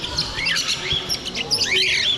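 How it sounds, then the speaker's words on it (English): Conures and other small parrots squawk and chirp at an exotic bird expo, several sharp, shrill calls overlapping close by and fairly loud. "All kinds of little birds here. We got conures,"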